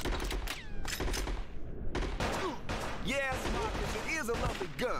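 Rapid video-game gunfire from Bad Boys: Miami Takedown, dense bursts of shots layered with shouting and game voices throughout, loud and busy.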